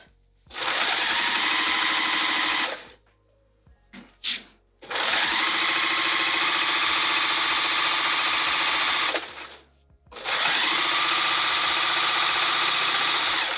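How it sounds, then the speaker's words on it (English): A sewing machine stitching across the bottom of a bag: three long, loud bursts of fast mechanical whirring and clatter, separated by brief pauses with small handling knocks in between. "let's go to the machine. What we're gonna do is sew all the way across the bottom."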